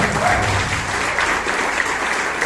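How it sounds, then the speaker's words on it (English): Brief burst of audience applause at a Toastmasters meeting in Bangalore, a continuous even patter of clapping from a room crowd, fairly close and unbroken. "Let the applause continue a little louder."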